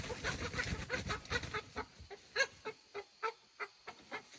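Chickens clucking in a garden near a raised bed, a close series of short clucks and soft calls repeating at a steady pace, growing sparser toward the end.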